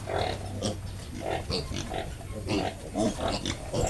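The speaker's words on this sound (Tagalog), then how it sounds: "Gutom na ang ating mga biik." Hungry piglets oink and grunt in quick, overlapping bursts, close by and fairly loud, waiting to be fed their medicine, with a faint low hum underneath.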